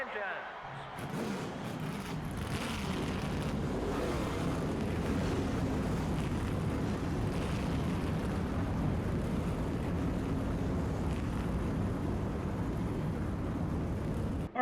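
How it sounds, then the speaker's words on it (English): Race car engines roar in the NASCAR Thunder 2000 video game at the start of a race, a dense, steady droning rumble that fills the whole stretch at an even loudness. "Gentlemen, start your engines."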